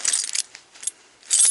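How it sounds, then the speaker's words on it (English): A set of car ignition keys jangles in two bright metallic bursts at the start and end with softer clinks between, close by and fairly loud. "Ignition key."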